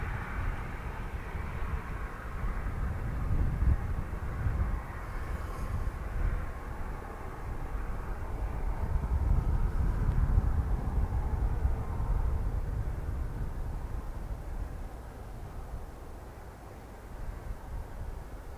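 Airliners at Dublin Airport, a Ryanair jet lined up and a British Airways flight to Heathrow, give off a low, distant engine rumble that rises and falls gently for the whole stretch.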